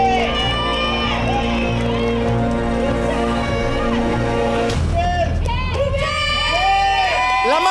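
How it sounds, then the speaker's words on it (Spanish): A TV talent show audience erupts in loud cheering, whoops and shouts along with clapping, a dense crowd roar that holds steady and then swells again with excited high-pitched screams. "El fuerte aplauso es para..."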